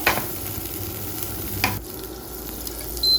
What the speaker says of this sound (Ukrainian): Тепер на гарячу сковорідку я додаю шматочок вершкового масла.